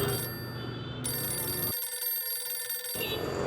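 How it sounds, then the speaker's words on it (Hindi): A telephone bell rings steadily throughout, a continuous electronic trill with brief pauses, heard alone at moderate volume. "घंटी बज रही है"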